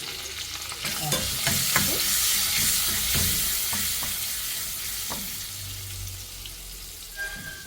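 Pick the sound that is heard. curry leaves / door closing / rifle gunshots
curry leaves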